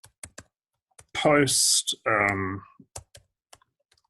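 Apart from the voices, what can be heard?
computer keyboard typing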